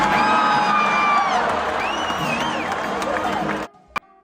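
A concert crowd cheers and whoops loudly in a dense, sustained roar with scattered shouts and clapping, then cuts off abruptly near the end.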